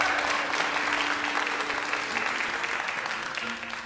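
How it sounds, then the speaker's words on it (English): Audience applause at an open-stage variety show, a dense sustained burst of clapping from a crowd that stays loud throughout and tapers slightly at the end. "Let's give Heart a huge round of applause"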